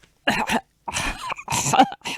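A person imitates coughing with a handful of short, harsh bursts, close to the listener and separated by brief silences.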